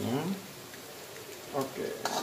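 Seasoning stirred into Samyang Korean noodles frying in a pan, a steady close sizzle with scraping stir strokes and light clinks of utensil on metal.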